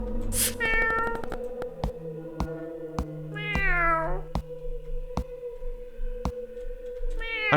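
A video game cat meows in clear tonal calls, one near the start and another around the middle, over a steady synthetic drone and regular soft percussive ticks, with no talking.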